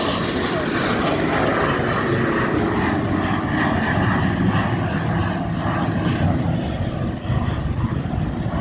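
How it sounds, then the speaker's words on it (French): A Boeing 777 jet airliner taking off at an airport, heard as a loud continuous engine roar with a broad rushing hiss, steady throughout and without a break. "Ça, c'est un premier décollage."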